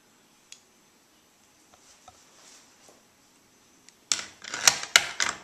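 A G43/K43 rifle bolt assembly drops into a milled bolt housing: faint scattered ticks at first, then a burst of loud, close metallic clacks and rattles as the parts seat.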